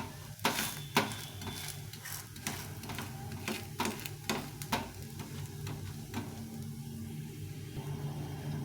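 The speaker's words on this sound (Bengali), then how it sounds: "পাল্টে পাল্টে চেপে চেপে ভেজে নিতে হবে" A sweet being shallow-fried in a pan, turned over and pressed down, giving a steady close sizzle broken by repeated sharp clicks and scrapes of the utensil against the pan.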